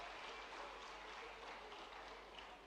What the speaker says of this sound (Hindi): जोरदार ताली बजाकर भाई साहब का स्वागत किया जाए